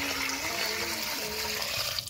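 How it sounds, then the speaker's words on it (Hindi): Hot water pours into a pressure cooker in a home kitchen while mutton paya is being prepared, a steady close gushing splash running the whole way at moderate level. "हम लोग का गर्म पानी हो गया है, और ये देखिए मम्मी अब डाल देगी इसमें कुकर में"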